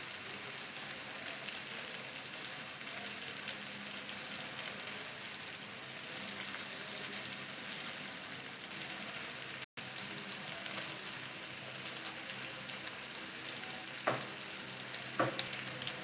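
Stuffed tinda (Indian round gourd) fries in a pan with a steady, moderately quiet sizzle throughout, briefly broken by one dropout and a few clicks of utensil near the end, with no speech.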